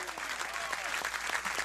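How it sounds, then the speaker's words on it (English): Studio audience at a late-night talk show applauding and cheering as Conan enters, a dense continuous roar of clapping that stays loud throughout, with some crowd voices mixed in. "Crowd is ecstatic."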